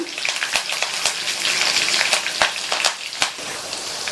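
Ginger, green chilies and curry leaves sizzle and crackle in hot oil for aval upma, with steady frying hiss and sharp pops and stirring clicks near the pan, no voices.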